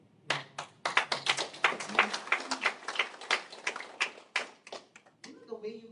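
An audience at a Buxcoin blockchain event in the Dubai Raviz hotel breaks into brisk clapping that builds and then thins out, many hands close by, with a voice speaking over the tail end.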